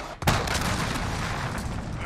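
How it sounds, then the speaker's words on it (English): A heavy blast from an allied cruise missile strike in Call of Duty: Modern Warfare battle royale, a sudden loud boom followed by a sustained rumbling roar of explosions and gunfire, with game voices over it. "Allied cruise missile."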